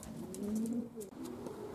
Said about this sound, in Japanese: 鳩の方は飛び出して上空の旋回を始めてます。